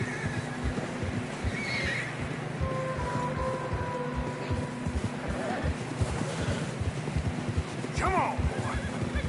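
In Red Dead Redemption 2, horse hooves plod steadily through deep fresh snow with snorts and a whinny near the end, under low rumbling ambience and occasional voices.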